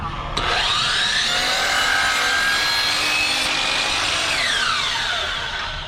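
A miter saw cuts a 45-degree piece of wood, a loud continuous whining buzz of blade biting through timber that holds steady for several seconds before starting to wind down.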